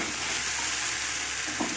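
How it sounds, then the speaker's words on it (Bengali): Vegetables for a broccoli curry sizzle and fry in a pan, giving a steady, even hiss that lasts throughout, close and unbroken, with no voices. "ভালো করে আমার সব সবজি কষানো হয়ে গিয়েছে।"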